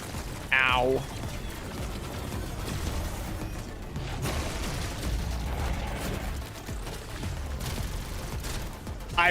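Full-auto weapon fire on a boss in Call of Duty: Black Ops 7 Zombies, a dense, continuous roar of rapid shots and mechanical clatter filling the whole stretch, loud and close.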